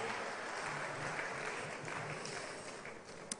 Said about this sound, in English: Let's put our hands together for him, ladies and gentlemen.